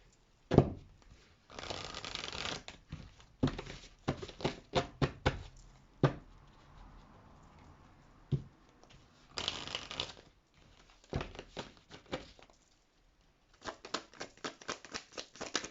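Oracle cards being shuffled by hand, a series of rustling, riffling bursts and soft slaps of card stock, close and fairly quiet with pauses in between.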